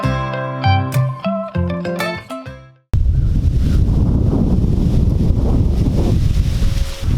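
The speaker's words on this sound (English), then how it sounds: "It's a nice blustery fall day." Blustery autumn wind outdoors, heavy continuous buffeting rumble on the microphone that cuts in abruptly after a few seconds of soft tonal music and then holds steady and loud.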